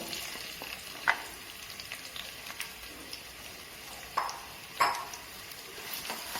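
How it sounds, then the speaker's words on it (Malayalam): Onion frying in oil with cinnamon, cloves and cardamom: a faint, steady sizzle with a few louder stirring clatters and scrapes near the pan, no voices. "അതിലേക്ക് നമുക്ക് പട്ട ഗ്രാമ്പു ഏലക്ക ഇട്ട് കൊടുക്കുക ആദ്യം തന്നെ, എന്നിട്ടൊന്ന് ഫ്രൈ ചെയ്യുക."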